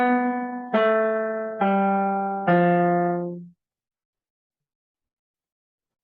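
Four sustained, non-staccato piano notes played one after another, each held and ringing into the next, then fading to silence.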